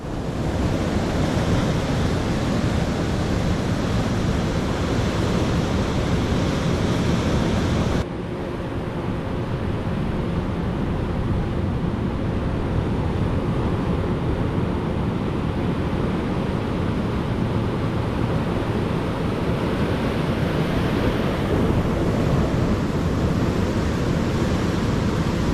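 Ocean waves surge against coastal rocks at Spray Point as the tide comes in, a loud continuous roar of surf and churning water with wind buffeting, the wash shifting slightly after the first few seconds but never letting up.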